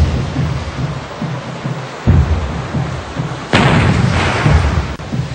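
Heavy booming blasts from warship guns in the naval battle of Angamos, a low rumbling burst early on and a louder, sharper report later that rolls on for over a second, with no voices.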